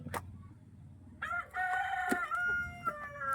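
Hens and chicks are close by, with sharp calls and a drawn-out crowing-like cry over low clucking, and a few short bursts in between.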